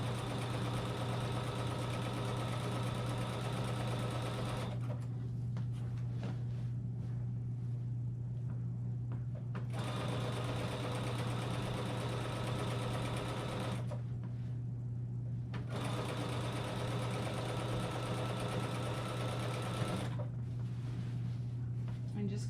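Sewing machine fitted with a walking foot stitching quilt binding a quarter inch from the edge, a steady close mechanical whir in long runs broken by brief pauses, with a low steady hum underneath.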